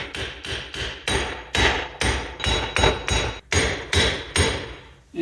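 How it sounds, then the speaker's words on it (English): Heavy metal hammer blows on a rusted wheel hub of a 2008 Infiniti FX35 ring out one after another, about a dozen strikes in an uneven rhythm, close and loud with no talking. "I may have to beat on it with a hammer to get it off"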